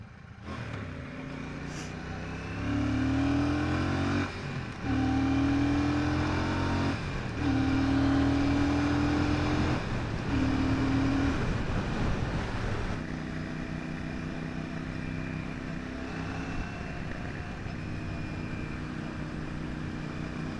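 Royal Enfield Classic 650 motorcycles do burnouts, engines revving repeatedly with rising pitch sweeps, then settling into a steady, somewhat distant engine drone.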